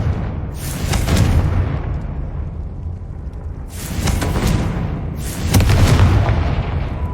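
Confringo blasting spell explosions in Hogwarts Legacy: three deep booming blasts, each with a rumbling low tail, spaced a few seconds apart over a soft background.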